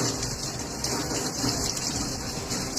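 Water steadily gushing and flowing through a lane, a continuous close rushing wash with no pauses and no speech.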